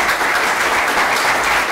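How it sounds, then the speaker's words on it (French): A crowd claps steadily for a couple of seconds, with dense applause filling the room and no talking over it. "Merci pour vos applaudissements aussi."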